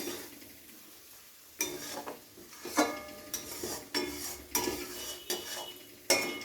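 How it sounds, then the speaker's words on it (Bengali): A spoon stirring fish curry in a kadai, irregular scraping strokes and clinks against the metal pan, close and fairly quiet, with no voices. "তো হালকা নেড়ে চেড়ে দিয়ে আবারও আমি ঢাকা দিয়ে দিলাম"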